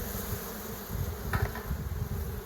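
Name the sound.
honeybee colony buzzing in hive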